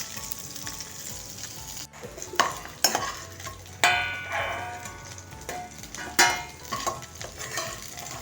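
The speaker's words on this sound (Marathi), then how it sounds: "आता माझी मिरची भाजून होत आली" Green chillies roast and sizzle in a pan as they are stirred, giving a steady frying hiss with sharp scraping spatula strokes and occasional louder bursts, with no voices.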